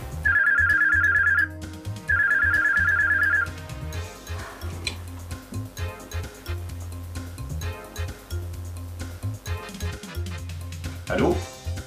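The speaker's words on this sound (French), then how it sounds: "Le téléphone sonne, personne ne décroche." A telephone rings loudly in two trilling bursts, then falls silent while other indoor sounds and voices carry on.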